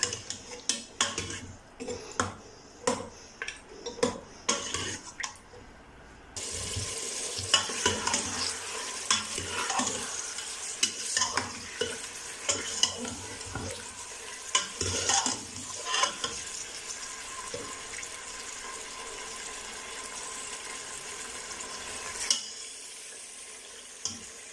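Mutton pieces sizzle and fry in very hot oil while a metal spoon scrapes and stirs them in the pot, with sharp clinks and knocks early on, then a steady sizzle under continued stirring.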